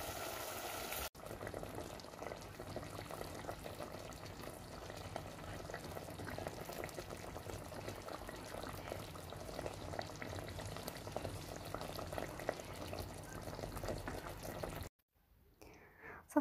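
Meat searing in a pot for Moroccan mrouzia, a quiet, steady sizzle and crackle of frying that continues unbroken, with no talk, before cutting off near the end.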